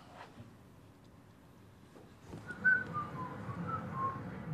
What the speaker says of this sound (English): The whistling is from the corner of Melba and Adams and Bishop Arts